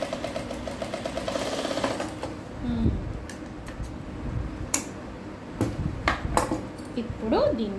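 A sewing machine runs in short rattling bursts while stitching a blouse, its quick ticking needle close by, interspersed with pauses and someone talking over and between the stitching.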